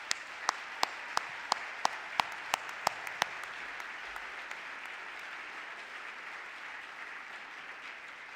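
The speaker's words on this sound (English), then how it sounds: "Let's give a round of applause for all the winners," Audience at an awards ceremony for the BEYA 2019 event gives a round of applause for the winners: a steady wash of many hands, with a few sharp, loud claps standing out at the start.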